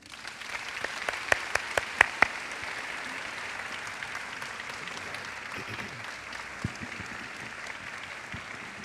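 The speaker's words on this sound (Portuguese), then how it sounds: "E palmas para Jesus." Congregation applauding inside a church during a Sunday morning service, with a few sharp claps standing out early before the clapping settles into a steady, moderately distant patter that fades slightly toward the end.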